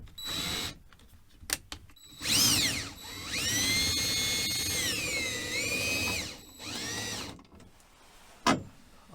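Long screws being driven with a cordless drill during a roof air-conditioner install on a 1977 GMC motorhome: several rising, whining motor runs with clicking and ratcheting between them, close and loud, with no talk.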